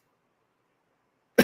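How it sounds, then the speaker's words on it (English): After near silence, a person gives a single sudden cough, close and loud, right at the very end. "I'm really sorry I keep coughing in your ear"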